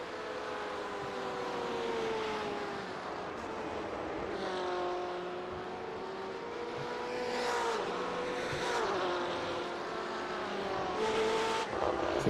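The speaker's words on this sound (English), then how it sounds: "See that blue car of Cortanic ahead?" Race cars lap Road Atlanta in iRacing, their engines whining and shifting pitch up and down as they accelerate and brake, with several cars overlapping, fairly loud and continuous.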